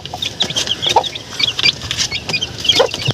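A brood of peacomb chicks peeps continuously in high, overlapping chirps, close by, with a few soft clucks mixed in.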